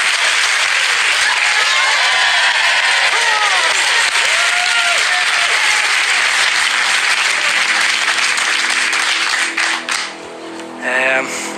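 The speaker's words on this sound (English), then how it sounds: "We want to cheer." TV game show studio audience bursting into loud sustained applause and cheering for several seconds, with whoops over the clapping before it thins out near the end.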